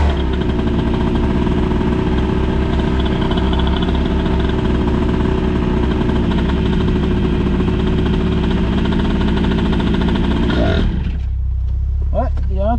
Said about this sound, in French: Un fonctionnement très bizarre du carburateur,